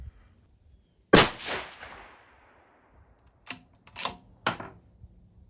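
A rifle chambered in 22 GT fires a 90-grain Berger bullet outdoors, giving one sharp, loud report with a trailing echo, followed by a few quieter mechanical clicks and clacks.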